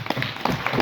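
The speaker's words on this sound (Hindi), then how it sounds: "इनके लिए एक जोरदार तालियां।" A few hands clap loudly during a speech, leaving a brief run of sharp, uneven claps close by, lasting under a second.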